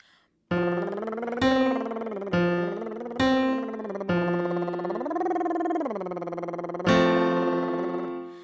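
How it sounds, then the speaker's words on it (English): A single voice does buzzing lip trills, sliding up and down a short scale in repeated phrases, close and steady with no other sounds. "So on lip trills, it would sound like this."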